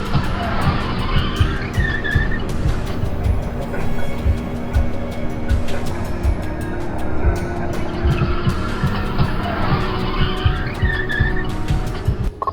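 A car drifts, spins around and nearly loses control on a road, heard from a dashcam: long loud tire squeals rise and fall over a droning engine and road rumble, with a second squealing slide near the end.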